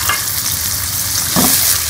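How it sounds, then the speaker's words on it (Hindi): Onion frying in ghee in a kadhai, giving a loud, steady sizzle up close, with a brief stirring scrape partway through. "अब इसके अंदर ये मैं प्याज डाल दूँगी मसाला बनाने के लिए"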